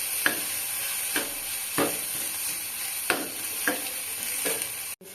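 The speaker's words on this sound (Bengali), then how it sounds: "পেঁয়াজগুলো যতক্ষণ না লাল হয় ততক্ষণ আমাকে ভাজতে হবে।" Onions and ginger fry for masoor dal, a continuous bright sizzle broken by about six evenly spaced scraping strokes of stirring, close up, ending with an abrupt clunk.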